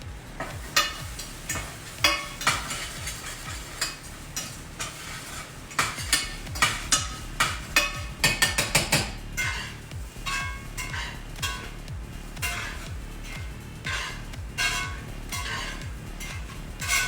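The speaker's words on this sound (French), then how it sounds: "on met maintenant l'ail et le gingembre avec les oignons pour la sauce" Garlic and ginger stirred into frying onions in a pan for a Punjabi poutine sauce, with repeated spoon scrapes and clinks over a steady sizzle, close and busy.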